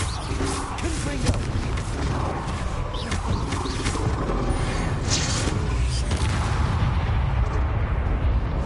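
Spell explosions and blasts in the Hogwarts Legacy video game, a dense, continuous roar of booming impacts and crackling bursts layered with battle sounds throughout, loud and close with no pauses.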